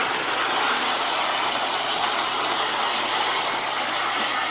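A Williams model train engine running on its track, giving a steady, even mechanical whir and light rolling clatter at constant level with no pauses.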